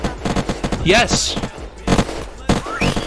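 Gunshots in the video game Unturned crack out in quick, loud bursts and fast repeated volleys, with excited voices shouting over and between the shots.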